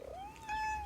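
A cat gives a single short, rising-then-falling meow, close and fairly quiet, in an otherwise still room.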